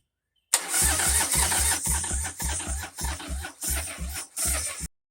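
A Harley Sportster engine cranks on a weakly charged battery, giving about eight close, rhythmic starter-motor churning bursts separated by short gaps. The engine never catches, and the cranking cuts off abruptly.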